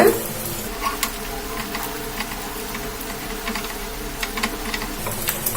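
Vegetable wheat flour paniyaram fry in a pan over a medium flame, giving a soft, steady sizzle with a low background hum and an occasional light tap of utensils.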